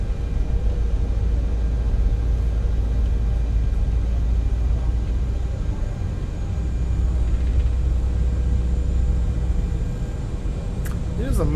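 An airliner taxis to the runway in a flight simulator game, a steady low engine rumble and broadband hum running continuously throughout, with a brief higher click near the end.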